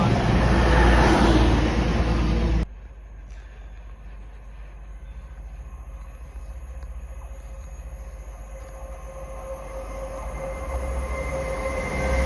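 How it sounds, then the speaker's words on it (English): A train runs through Market Harborough station without stopping, a loud rushing roar close by that cuts off sharply and leaves a lower, steady rumble and faint rail tones. "The train now approaching platform 2 does not stop here."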